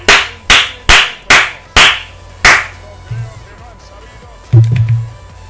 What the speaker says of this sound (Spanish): ¡Un aplauso para el Sevilla Atlético, de verdad!